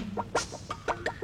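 Chickens clucking in short, quick bursts, several sharp clucks in an irregular rhythm, fairly close and clear with no voices over them.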